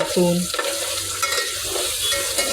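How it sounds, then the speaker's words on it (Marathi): Onion frying in a pan with whole spices, curry leaves and ginger-garlic paste gives a steady close sizzle, with a brief stirring scrape near the start and no talking. "कांदा आता थोडासा लालसर व्हायला आला आहे"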